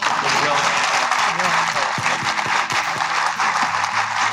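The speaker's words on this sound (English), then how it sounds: "One more round of applause." Audience applause at a Kentucky bourbon event with a family distillery, a dense wash of clapping hands filling the room, steady and loud with a few sharper claps standing out, a voice faintly under it.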